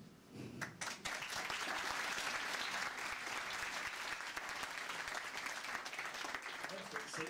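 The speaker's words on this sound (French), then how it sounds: "C'est rare quand ils applaudissent systématiquement après chaque intervention." Audience in Molenbeek applauding after a speaker's intervention, a sustained, even round of clapping that starts after a brief voice and continues steadily, moderately distant.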